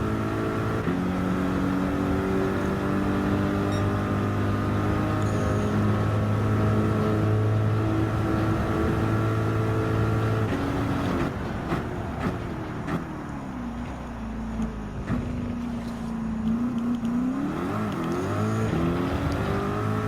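A race car engine in Gran Turismo 7 during a Manufacturers Cup race, loud and sustained with droning harmonics, then a gear shift and a rising rev that climbs again.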